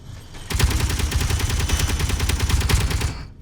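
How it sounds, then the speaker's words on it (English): Chain guns on a battlemech in Space Engineers fire a rapid, continuous automatic burst of sharp, evenly spaced shots for about three seconds, loud and close, with no talking. "So we have our chain guns."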